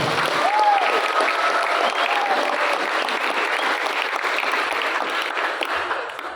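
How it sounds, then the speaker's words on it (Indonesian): At SMA Karya Sekadau's Christmas celebration, a large crowd claps in sustained, even applause that fills the hall and fades slightly toward the end, with a brief cheer near the start. "Tepuk tangan untuk kita semua."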